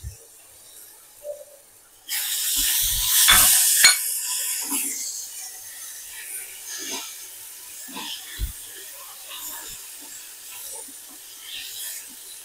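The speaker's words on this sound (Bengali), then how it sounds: "এবার আমি দিয়ে দেবো পেঁয়াজ আর টমেটো একসঙ্গে দিয়ে দিচ্ছি।" Chopped onion and tomato drop into hot mustard oil in a pan and burst into a loud hiss and sizzle, then settle into a steady, softer frying sizzle with occasional stirring knocks.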